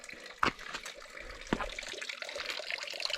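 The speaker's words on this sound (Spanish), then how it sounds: "hay una fuente. Aquí tiene un chorrín pequeño, pero bueno, lo suficiente para beber." A small stone fountain spout in the medieval Asturian village of Banduxo lets a thin stream of water trickle and splash softly and continuously, with a couple of louder splashes and gurgles nearby.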